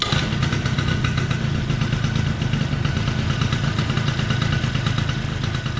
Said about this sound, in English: here's a sound clip of how the scooter sounds with an open carb